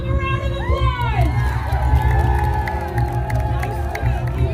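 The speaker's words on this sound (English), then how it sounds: "Everyone give him a round of applause." At a Halloween haunt event at an amusement park, a crowd cheers and whoops with scattered clapping and excited shouts over a loud, constant low rumble of background noise.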